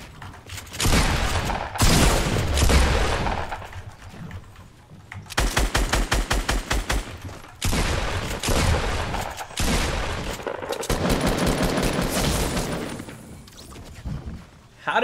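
Fortnite gunfire comes in several loud bursts of rapid automatic shots separated by short pauses, with single cracks and impacts between them and occasional voices underneath.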